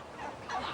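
A turkey gobbles in a short, close burst of rapid warbling calls, fairly loud and alone.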